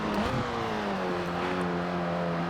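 A Fiat X1/9 engine in the racing game Forza Horizon 4 hums steadily while driving, a moderate, continuous whirring drone with slight pitch shifts and no talk.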